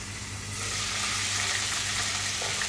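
Baby corn chicken fries in a covered pan with a steady broadband sizzle that swells after the first half-second and holds, loud and close, with no voices.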